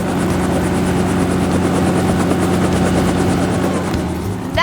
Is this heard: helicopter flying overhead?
yes